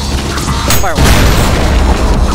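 A grenade explodes in the VR game ULTRAKILL: a single loud, sharp boom about a second in, followed by a sustained noisy rumble, with brief game sounds just before it.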